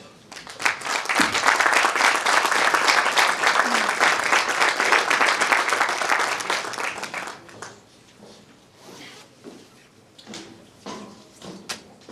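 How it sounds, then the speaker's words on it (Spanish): Audience applause at a history and heritage congress in Viver, a dense sustained clapping from a seated crowd for about six seconds that then thins to scattered claps and room noise with shuffling. "Así que os recibimos con un aplauso."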